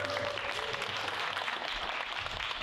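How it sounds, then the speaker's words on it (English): An audience applauds at an evening book talk about a publisher, a soft, steady patter of clapping heard from a distance across the whole moment. "I know there's a lot of clapping just now"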